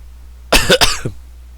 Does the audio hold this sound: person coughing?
yes